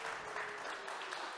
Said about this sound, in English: Give a big round of applause to this panel